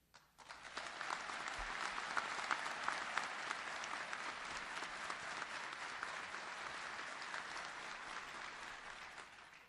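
Sustained audience applause welcoming the FBI Director at the FBI National Academy graduation, a dense steady clapping from a large crowd rising quickly and holding for several seconds.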